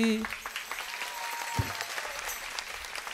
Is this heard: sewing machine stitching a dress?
no